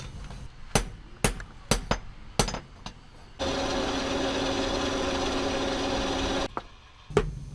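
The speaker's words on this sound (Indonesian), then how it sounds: "kemudian akan dipukul-pukul memakai palu, hingga besi tersebut pipih" A hammer pounds hot iron at a blacksmith's forge, striking in a quick series of loud, sharp clangs, then a roaring stretch like a blower or grinder, then a few more strikes.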